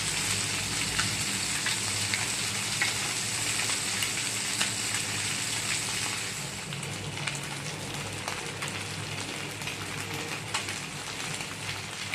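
Small dried fish fry on a high flame with a dense, even sizzle and crackle that carries on unbroken throughout, close and steady with no voices.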